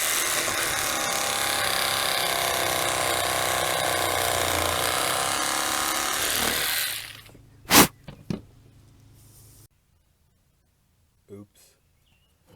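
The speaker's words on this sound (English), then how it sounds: "then I'll cut out that piece on the jigsaw" A jigsaw cuts a composite deck board set on a sawhorse, buzzing loudly and steadily for about seven seconds before it stops, followed by a few sharp clicks and knocks and then near silence.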